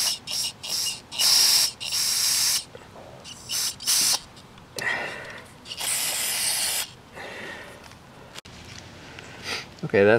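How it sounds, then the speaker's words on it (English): Brake cleaner sprayed from an aerosol can into an opening on a Honda HR 214 lawn mower engine, heard as several close hissing bursts of varying length separated by short pauses. "I'm gonna try to squirt some brake clean up in this hole here and just spray that down a little bit."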